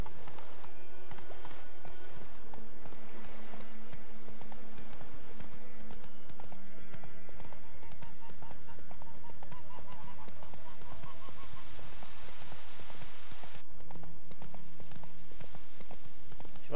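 Steady clip-clop of horse hooves in The Witcher 3 on PS4, over a layered game soundtrack of music and ambient effects, with occasional honk-like calls mixed in.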